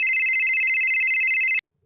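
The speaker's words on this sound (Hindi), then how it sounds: "फोन आ गया।" A phone rings with a bright, steady electronic ringtone that pulses continuously for about a second and a half, then cuts off abruptly into silence.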